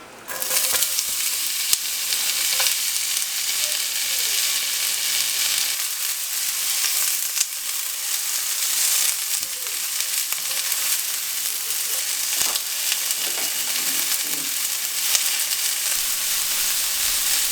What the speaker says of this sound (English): Let's go ahead and get us an onion on there. Let's add our onions.